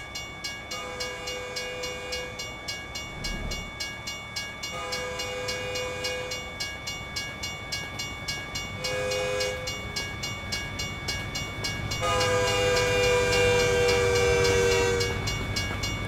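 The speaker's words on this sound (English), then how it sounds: "Train is loud." A freight train rolls past in American Truck Simulator near Conway, Arkansas, its horn sounding in several long blasts over a steady rumble and rhythmic clatter of wagons that swells louder toward the end, with no talk.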